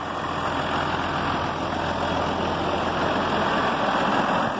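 A 2004 Renault Ares 656 RZ tractor's diesel engine idles in a steady, rumbling drone, close and continuous throughout, with no talking.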